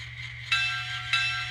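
A Kato E8 N scale model locomotive fitted with a TSU-KN1 sound decoder rings its bell, a bright metallic clang repeating at a steady pace over a constant low electrical hum.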